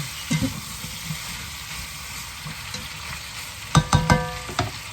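Food frying in a pan gets stirred and mixed, with a steady low sizzle broken by a few sharp metallic scrapes and clinks of the utensil near the end.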